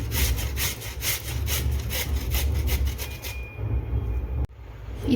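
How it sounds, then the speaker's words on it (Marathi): Fresh turmeric root rasped quickly on a grater, a steady run of close, loud scraping strokes that stops abruptly near the end. "आता ही जी सगळी हळद आहे ना ती आधी मी किसून घेते"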